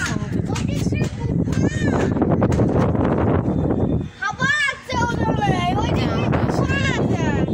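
Strong, steady wind buffets the microphone on a rooftop, roaring continuously and close, with a brief lull partway through, while a voice talks over it throughout.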